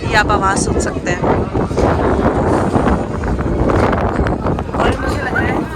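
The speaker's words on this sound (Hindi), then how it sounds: "शादी के बीच अचानक से बहुत तेज़ हवा और हल्की हल्की बारिश स्टार्ट हो गई है" Strong wind with light rain sweeps across an outdoor wedding on the day of the baraat, a loud, rushing buffeting roar that continues throughout with people talking under it.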